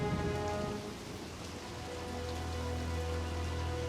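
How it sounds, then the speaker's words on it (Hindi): Steady cartoon rain pours down evenly, a dense hiss of drops on surfaces with a low rumble underneath, continuous and fairly close with no voices. "आज अचानक से बारिश आ गई"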